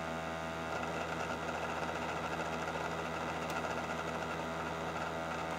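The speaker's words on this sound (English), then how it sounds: "So I have the Brother embroidery machine." A Brother embroidery machine runs nearby with a quiet, steady mechanical whir and buzz, an even rhythmic stitching drone that continues without pause and with no voices.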